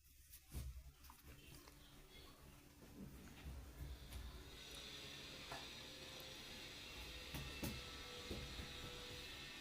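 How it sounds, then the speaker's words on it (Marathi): Mustard seeds spluttering in hot oil in a kadhai: a steady, close frying sizzle with sharp crackles and pops that thickens into a dense hiss after a few seconds. "मोहरी तडतडल्याच्या नंतर"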